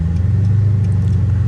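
Dodge R/T car engine idling loud and close, a deep steady rumble with slight pulsing throughout, in the early morning at a gas station.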